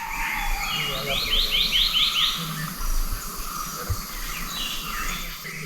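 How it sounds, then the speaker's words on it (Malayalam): Birds call and chirp through dense forest ambience in the Athirappilly jungle, with a run of bright repeated chirps rising above a steady insect-like hiss and low rumble. "നമ്മുടെ പ്രസൻസ് അറിഞ്ഞിട്ട് പക്ഷികളും മറ്റ് എല്ലാം കിടന്ന് ബഹളം വയ്ക്കുക കേട്ടോ."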